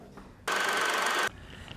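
A telephone rings once, a loud buzzing trill lasting under a second that stands out sharply against quiet room noise.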